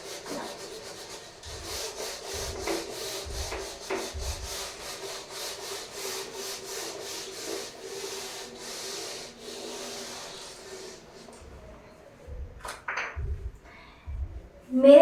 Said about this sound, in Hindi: मैं ये डेफिनेशन मिटा देती हूँ,